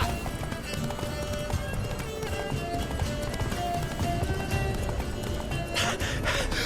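Roach, a horse in The Witcher 3, gallops with steady clip-clop hoofbeats over a busy game soundscape of music and effects, with a brief burst of brighter noise near the end.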